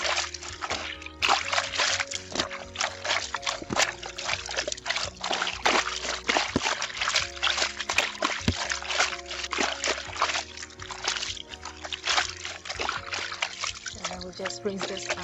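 Water splashes and dribbles steadily as hand-washed bed sheets are wrung and squeezed out, with dense, continuous wet sloshing and trickling close by.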